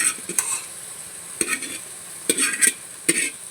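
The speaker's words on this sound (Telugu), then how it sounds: "పాస్తా కలుపుతున్నానండి." Pasta being stirred in a pan with a spoon, giving a few short scraping and sizzling strokes in bursts with pauses between, close and fairly quiet.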